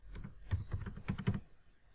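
Quick clattering keystrokes on a computer keyboard as a new folder name is typed in Windows 10, a short burst of close, light taps with a pause in the middle.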